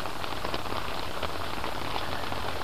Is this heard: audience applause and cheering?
no